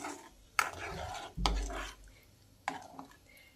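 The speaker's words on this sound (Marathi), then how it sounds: "आणि छान मिक्स करून घ्यायचं आहे" A spoon stirs mung bean pod vegetable curry in a pot, with a few sharp scraping clacks against the metal over quiet bubbling, fairly faint and close.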